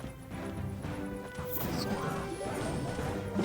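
Game sound effects from Clash Royale, with a mortar card firing and its shell smashing down on the arena amid a dense, busy mix of battle noises and music, steady and fairly loud throughout.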